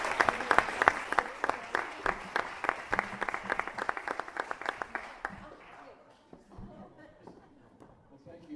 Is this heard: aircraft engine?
no